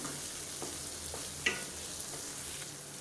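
Snake gourd fry stirred in a pan over a high flame, a continuous close sizzle with occasional spatula scrapes and a sharper knock near the middle, no talking.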